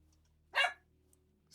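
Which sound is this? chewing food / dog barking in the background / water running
dog barking in the background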